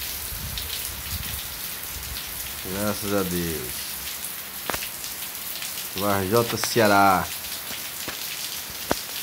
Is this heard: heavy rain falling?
yes